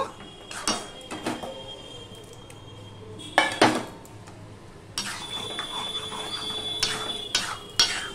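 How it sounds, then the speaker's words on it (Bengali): Mixed dal lentils sautéed and stirred in a pot, with intermittent metallic clinks and scrapes of a spoon against the pot over a quiet background, several sharper knocks spaced irregularly. "ডালটা আমি সম্পূর্ণ দিয়ে দিলাম। দিয়ে একটু কষিয়ে নেব।"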